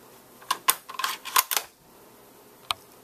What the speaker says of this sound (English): slide your bolt in, lock it down